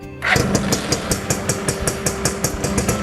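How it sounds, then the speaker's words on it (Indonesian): A Yamaha 80 motorcycle engine is started with the electric starter, catching quickly and settling into a loud, steady idle with a rapid, regular pulsing beat. "Lihat, kita starter pakai jari kelingking."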